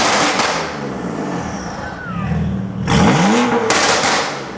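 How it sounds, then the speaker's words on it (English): A car exhaust with a titanium system crackles and burbles on lift-off, a loud close rumble with sputtering pops and a falling engine note, alone without voices. "let it pop off. Like, let off the exhaust."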